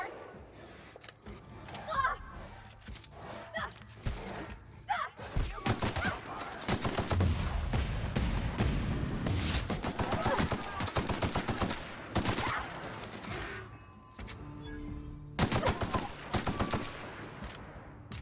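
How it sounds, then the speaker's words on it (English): Sniper rifle and other gunfire in the video game The Outer Worlds, with repeated sharp shots and bursts scattered through a busy mix of game sounds and voices. "This guy's really bad with the sniper rifle."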